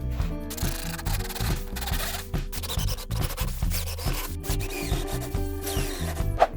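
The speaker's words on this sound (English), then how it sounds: "Okay, so now I'm going to drill the holes for the handle." A drill bores handle holes into a wooden weightlifting jerk box, its motor whirring under rough, rhythmic scraping and grinding as the bit chews through the wood up close.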